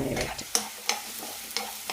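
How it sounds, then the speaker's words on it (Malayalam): Chopped onions with curry leaves sauté in oil in a pan for a Kerala soursop curry, giving a soft steady sizzle broken by three sharp scrapes of a spatula against the pan, close up with no voices. "സവാള ചെറുതായി ചുവക്കുന്നവരെ വഴറ്റിയെടുക്കണം"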